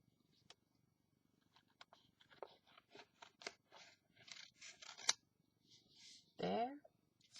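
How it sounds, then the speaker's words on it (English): Scissors trim excess paper from a handmade ephemera piece: a quiet series of crisp, irregular snips, then a louder rustling crunch of paper near the end. "Any excess that needs to be trimmed off can come off right now."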